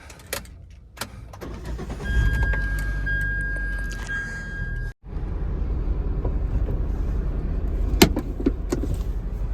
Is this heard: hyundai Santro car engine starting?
yes